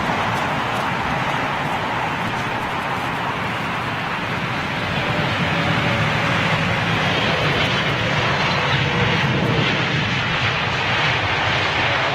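PIA Boeing 777 at Heathrow, a continuous broad jet engine roar with wind noise, steady and loud across the whole stretch, rising slightly partway through, no talk.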